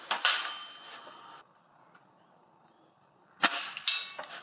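A tuned Walther LGU air rifle fires outdoors in the field, giving a sharp snapping discharge followed by a quiet pause, then a second loud crack with a quick metallic knock as the pellet strikes a target.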